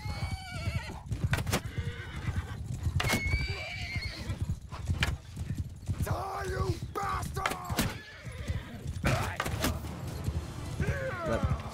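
Horses neigh and whinny over constant clopping hooves and thuds in the video game Bannerlord, a busy, loud mix of several animals moving together.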